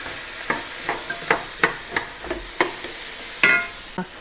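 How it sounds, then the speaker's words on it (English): Beef bourguignon cooks in a pan, with a soft sizzle under a steady run of close, rhythmic stirring scrapes roughly every half second, no voices. "Okay, so we're going to let that simmer for a couple minutes."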